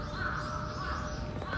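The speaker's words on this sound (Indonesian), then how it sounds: "Kayak ada burung juga di situ." A crow caws amid steady outdoor background noise at a Japanese temple, the calls fairly faint and blended into the ambience.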